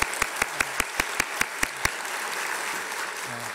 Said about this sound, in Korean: 살아계신 하나님, 좋으신 하나님, 이 자리에 계신 하나님께 영광의 박수 올리겠습니다